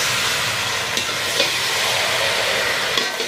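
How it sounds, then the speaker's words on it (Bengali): Spiced potatoes with ginger being stir-fried in a pan, a steady close sizzle and hiss with occasional soft scrapes and stirs, no voices. "এবারে এটাকে কষিয়ে নেওয়া হচ্ছে।"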